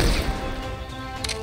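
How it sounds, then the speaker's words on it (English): Landmines go off in the undead-wave strategy game Wave of the Undead, giving a short, muffled crash and thud followed by a fading rumble, moderately quiet. "That's the sound of our landmines going off"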